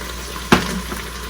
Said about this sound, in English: I'm gonna add in a splash of that.